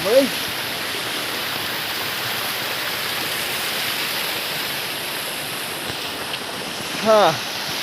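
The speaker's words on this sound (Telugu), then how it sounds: "వాటర్ ఫాల్ దగ్గర చేరుకున్నాం" Waterfall tumbling over rocks in a forest, a steady broad rush of falling water filling the whole stretch, with brief voices at the start and near the end.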